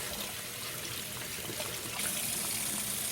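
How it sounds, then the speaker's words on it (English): Water runs steadily from a tap as a glass bong is rinsed out, a continuous close hiss and splash with no pauses. "rinse this out"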